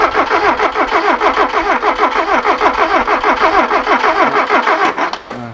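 Ford TX3 Turbo with a B6T twin-cam engine cranking over in a loud, rhythmic starter churn that repeats steadily for several seconds, then cuts off abruptly near the end, close up with no talking.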